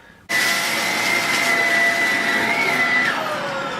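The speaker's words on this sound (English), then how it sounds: "There is usually some excess screws that you can vacuum." A vacuum cleaner switches on abruptly and runs loud and close with a steady high whine, sucking up leftover screws from a fan or lamp repair, without speech.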